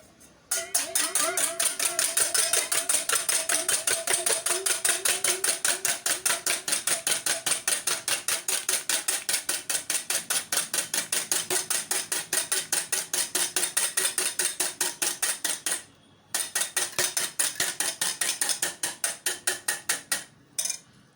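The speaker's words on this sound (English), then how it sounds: "I always whisk it vigorously, and by so doing, I'm incorporating air into the egg" Fast, steady metallic clicking of a whisk beating eggs vigorously in a bowl for cake batter, loud and continuous with one brief pause near the end.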